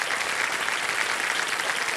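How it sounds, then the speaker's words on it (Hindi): Studio audience applause on the KBC quiz show: a dense, steady burst of clapping from many hands that fills the whole stretch at an even level, with no talk over it. "तालियां बज जाए इनके लिए।"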